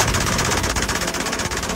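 An MG42 machine gun fires a continuous, very fast burst of shots at a titanium-alloy helmet and mannequin heads in a ballistic test, loud and close, with the shots blurring into a harsh ripping roar.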